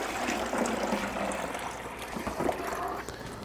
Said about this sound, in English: Just pour the water right on in there.